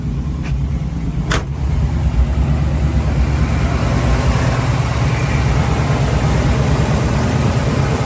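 A 1972 Chevrolet C10 Custom Deluxe engine, an older rebuild with headers, idling loudly and steadily up close, a deep even rumble throughout after a couple of faint clicks at the start.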